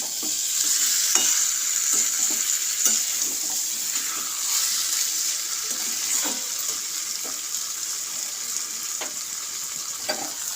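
Potatoes fry in oil with a bright, constant hiss, while a utensil stirs and scrapes the pan in scattered short strokes.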